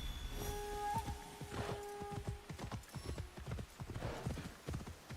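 Rhythmic clip-clop of horse hooves at a steady trot in the video game Assassin's Creed, close and clear, with a faint tonal hum in the background.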